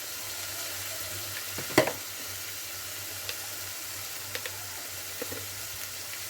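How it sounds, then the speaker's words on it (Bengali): Chilli, turmeric and cumin spices frying in hot oil in a pan for a hilsa fish dish, a faint steady sizzle with a louder clatter of stirring near the start and a few soft taps after. "এবার আমি মশলাটা তেলের মধ্যে ভালো করে কষিয়ে নেব"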